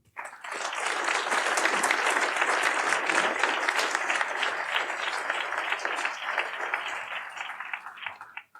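Sustained applause from an audience welcoming a guest of honour at an awards ceremony for the best student projects, dense and steady for about eight seconds before thinning out near the end, with no talking over it.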